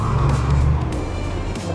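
Steady heavy traffic on a Dubai road, a continuous loud low engine and tyre rumble from passing cars with no pause, heard close by from the roadside.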